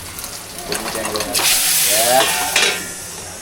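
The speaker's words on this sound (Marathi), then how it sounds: "एकच नंबर फोडणी दिलेली आहे" Whole spices crackle and sizzle as a tempering hits hot oil, a loud hissing burst building midway with spitting crackles, close by, while voices are heard briefly under it.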